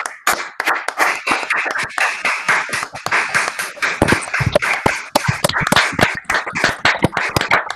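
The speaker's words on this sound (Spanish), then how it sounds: "se merece ese aplauso de todos" An audience at a history lecture applauds the speaker, with dense, loud clapping from many people, close and lively, individual sharp claps standing out in an irregular rhythm.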